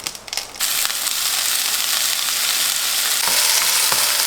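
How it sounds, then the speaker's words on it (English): Loud, steady sizzling of onions, cumin and garlic frying in a hot pan, with a few stirring clicks near the start. "just frying onions with zeera, garlic, and then adding tomato puree"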